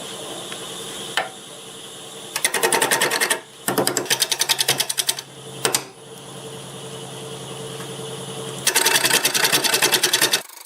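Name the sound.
wood lathe turning a laurel root ball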